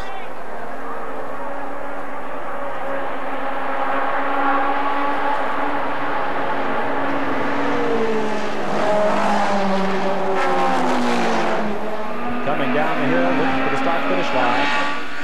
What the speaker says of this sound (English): The battle rages on down the back straight. Volvos, Fiats, Triumphs, MGs, and Saabs in this F production national championship race.